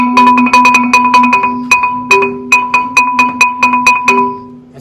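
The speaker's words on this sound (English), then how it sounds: "if I play it on the string, it sounds like this" A marimba bar struck on the string (the node) gives a rapid series of loud, close, ringing strikes at one pitch, briefly shifting to a second pitch, with a dull, slightly buzzy tone.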